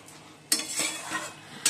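Spinach being stirred in a pan, a utensil scraping and clattering against the metal in a few close strokes over a soft sizzle, with no talking.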